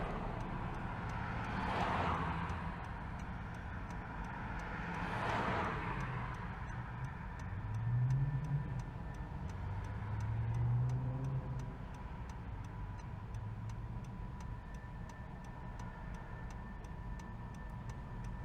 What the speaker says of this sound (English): Enjoy the ASMR vibes from the Honda CR-V turn signal.